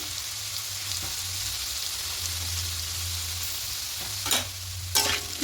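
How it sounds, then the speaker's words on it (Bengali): Potatoes fry in a pan with a steady, close sizzle and light stirring scrapes, plus two louder clatters near the end. "এবার আলুগুলো দিয়ে হালকা লাল করে ভেজে নেবো"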